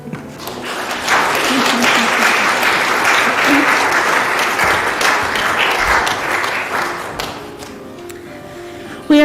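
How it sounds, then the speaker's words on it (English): A church congregation applauds together, a broad sustained wash of clapping that swells in and holds for several seconds before tapering away, with a sharp sound right at the end. "Give yourselves a round of applause."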